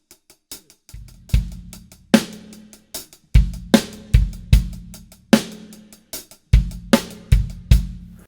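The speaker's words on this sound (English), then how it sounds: "Pattern is going to be where I'm playing one accent and three taps." A repeating drum kit pattern of one loud accented hi-hat stroke followed by three softer taps, over a deep kick pulse, plays steady and close with no voices.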